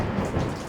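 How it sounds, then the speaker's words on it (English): Thunderstorm with steady rain falling over a lake, a dense continuous rush of rain with a low rumbling undertone, loud and enveloping with no break. "Storm clouds and rain greet the Scatter Rap Challenge anglers"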